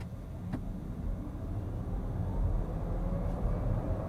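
A VW ID4 electric SUV, rear-wheel drive, accelerates from 0 to 70 km/h on a wet road, heard as a steady low road and tyre rumble that builds gradually, with a faint rising whine from the electric motor.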